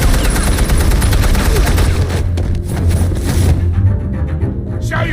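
Gunfire rattles in Batman: The Telltale Series video game, a loud dense burst of rapid shots and booms that carries on for several seconds, then thins out toward the end.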